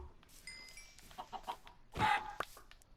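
Chicken clucking in the video game Minecraft, a few short pitched clucks scattered across the moment, with one louder, fuller burst near the end over quiet game ambience.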